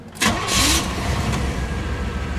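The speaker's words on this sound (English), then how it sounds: "let's listen to her fire up here" A 1992 Cadillac Brougham d'Elegance 350 V8 engine cranks briefly and catches, settling into a steady, smooth, quiet idle close by.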